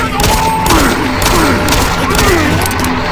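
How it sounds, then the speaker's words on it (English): A pistol in DOOM 3 fires a series of loud, close shots that blend into heavy game sound effects and a constant rumbling background. "this pistol's garbage"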